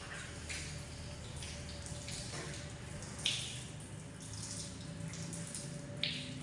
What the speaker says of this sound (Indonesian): Dengan keran air yang cukup banyak sehingga tidak begitu banyak memerlukan antri jika ingin mengambil air wudhu